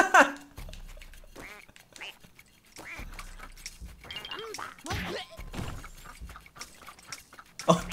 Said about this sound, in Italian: Sono una bellissima papera.